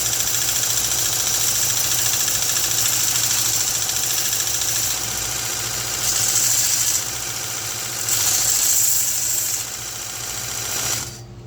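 A Vevor mini vertical belt sander runs continuously while sanding metal, a loud steady motor whine with gritty abrasive hiss that swells and eases slightly before cutting off at the end.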